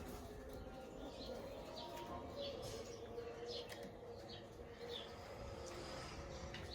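Teddy, Jiria and Girebaj pigeons coo softly in a loft, their low murmuring calls mixing with faint chirps and light wing flutters under steady background noise.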